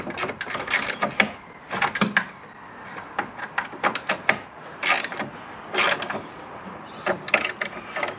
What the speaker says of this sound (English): I'll grab me ratchet, which I've got right here, and then